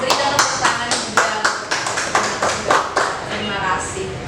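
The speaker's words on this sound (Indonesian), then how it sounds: "Berikan tepuk tangan juga." Audience at a political talk show on democracy claps in a loose, rhythmic pattern, sharp distinct claps arriving a few times per second, close and fairly loud, with voices talking over the clapping.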